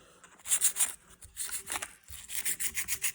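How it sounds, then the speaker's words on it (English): Sandpaper rubs in quick back-and-forth bursts across the wooden rim of a 1968 Pontiac GTO Sport wood steering wheel under repair for splits, with close, rhythmic scratchy strokes in several separate runs and short pauses. "Get every side of it, sand it down, and it doesn't take a lot."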